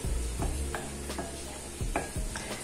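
Cumin seeds and ginger garlic paste stirred in a hot pan, a spoon scraping in a loose rhythm over a steady low sizzle, close and alone without voices.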